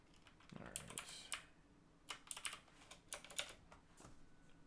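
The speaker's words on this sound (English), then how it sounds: "programming ASMR, loud ass keyboard in your ears" Loud computer keyboard typing close up, irregular bursts of clacking keystrokes with short pauses between flurries, no voices.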